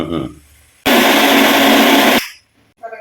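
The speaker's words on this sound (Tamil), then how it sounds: "இப்போ இதை அரைச்சி எடுத்துக்கலாம் தேங்காயும் சேர்த்துக்கணும்" A blender grinds roasted spices with turmeric and coconut in one loud, steady burst of just over a second. Brief talk is heard before and after it.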